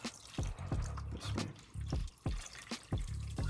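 Water pours from a jug into a hydroponic plant reservoir, filling it with a few liters in repeated short splashing bursts, each pour trickling and gurgling for about half a second, close and moderately loud.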